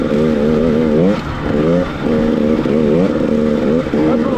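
A studded two-stroke dirt bike revs hard over rough winter whoops, its engine note rising and falling in repeated surges as the bike bounces, loud and close throughout with no talk.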